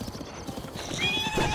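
A horse in the Zelda Breath of the Wild video game gallops with steady clip-clop hoofbeats and lets out a whinny near the end, loud and close over a busy game backdrop.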